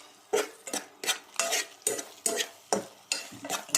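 A hotdog omelette cooks in a pan as a utensil scrapes and taps against it in a quick, regular rhythm of about ten close strokes over light frying sizzle.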